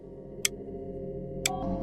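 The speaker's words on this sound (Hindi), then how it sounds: "सन्नाटा, घड़ी की टिक टिक" A clock ticks in a quiet room at night, two crisp, isolated ticks about a second apart over a faint steady background hum.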